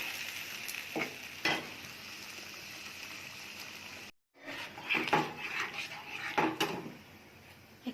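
Boiled dal and drumsticks cooking in a pan, a soft, quiet simmer broken by several sharp stirring scrapes and clinks, with a brief silent gap midway.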